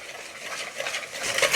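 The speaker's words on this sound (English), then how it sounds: "Nice and steady around, keep it stirring, and we will melt this in." Soft scraping and gentle sizzling from a pot as sugar is stirred steadily while it melts, a light continuous rasp with faint bubbling, close by.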